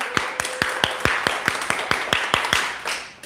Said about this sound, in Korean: 우리가 한번 박수하겠습니다.